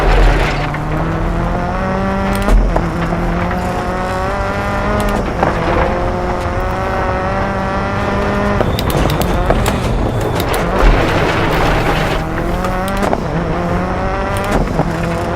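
A rally car in DiRT 4 powering through a corner, the engine loud and near, revving up and dropping through repeated gear shifts, with brief tire noise and gravel scrabble between pulls.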